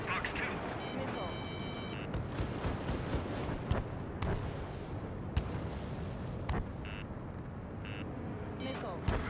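Missile launches and explosions in the flight combat game Ace Combat 7 sound as a dense, continuous roar of blasts with sharp cracks and repeated beeping tones, while voices call out over the noise throughout.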